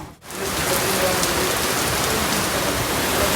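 Sudden rain falling in Himmatnagar, a dense, steady wash of raindrops that stays loud and continuous after a short quiet start.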